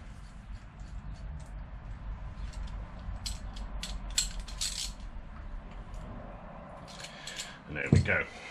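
A bolt tightened on the rear brake of a Honda CBR600 motorcycle, scattered light metallic clicks and ratcheting ticks close by over a low steady background hum, ending in a louder clatter.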